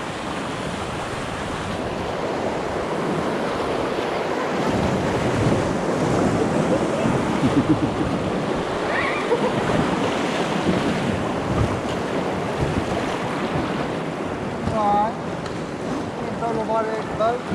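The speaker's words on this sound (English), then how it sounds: "See the kind of big wave?" Big waves churn around a paddled raft on a river during a storm, a loud, continuous rushing roar with heavy wind buffeting the microphone and faint voices now and then.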